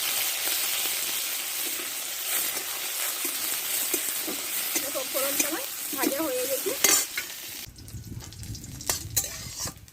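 Whole cumin and black mustard seeds sizzle and crackle steadily in hot oil for dosa chutney, close and continuous, with a brief stir of utensils and a heavier frying hiss near the end.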